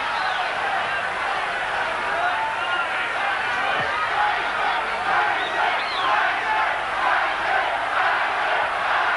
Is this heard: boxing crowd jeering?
yes